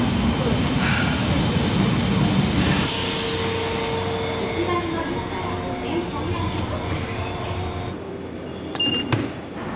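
A train rolls through a small railway station in Japan with a steady rumbling roar that thins out and ends in a few sharp squeals and clicks. A person speaks over the first part.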